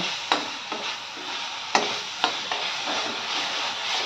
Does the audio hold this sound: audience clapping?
no